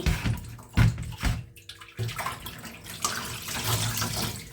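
Wood ear mushrooms being washed by hand in a basin of water, loud close sloshing and splashing in uneven bursts, then a steadier running wash of water.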